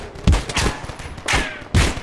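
Gunfire in the game Poly Field comes as three loud, close bursts of rapid shots, spaced about half a second to a second apart, each cracking sharply before fading into echo.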